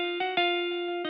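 A short, dry piano loop in FL Studio plays with no effects: sustained chord tones and a few crisp repeated note attacks, clean and close, with no voices.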